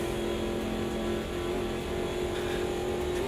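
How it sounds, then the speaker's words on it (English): Wankel rotary engine race car in the sim racing game Automobilista 2, a steady high-pitched scream held at constant pitch throughout, loud and continuous with no talking. "the sound from the Wankel engine, absolutely, the old rotary engines screaming their heads off"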